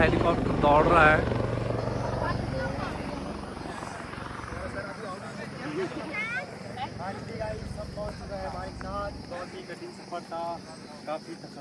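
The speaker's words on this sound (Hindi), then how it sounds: "ठीक हमारे सर के ऊपर हेलीकॉप्टर दौड़ रहा है।" Helicopter passing overhead during a mountain trek to the Manik Nath cave, a steady rotor drone heard beneath someone talking close by, fading somewhat as it moves on.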